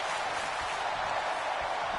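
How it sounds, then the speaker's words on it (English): A wrestling crowd cheers and claps in a steady, dense roar that continues loud and unbroken throughout. "Crowd going wild for Chaser here."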